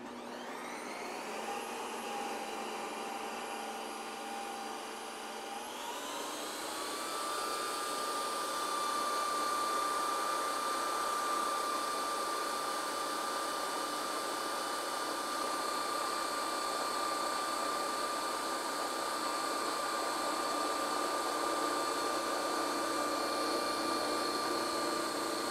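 Ninja Creami ice cream maker spinning a pint, a loud, steady high-pitched motor whine that rises in pitch after a few seconds and then holds, running alone without talk.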